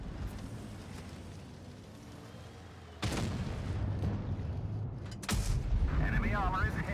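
Tank gun firing in World of Tanks Blitz, two heavy booming shots a couple of seconds apart, each followed by a rumbling tail, over steady engine drone with some talk in the background.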